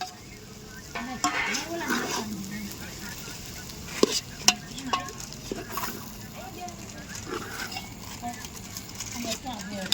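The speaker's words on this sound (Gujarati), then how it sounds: "અહીંયા પૌવા બટેકા બની રહ્યા છે" Poha with potatoes cooking in a pan, a continuous sizzle with stirring and scraping of a spoon, a couple of sharp metal clinks midway, and a voice talking over it at times.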